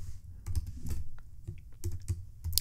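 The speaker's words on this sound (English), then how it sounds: "We're going to type out change PCT, which stands for percent." Fingers clatter across a computer keyboard entering a spreadsheet formula, quick close-up keystrokes in uneven bursts with short pauses, no voices.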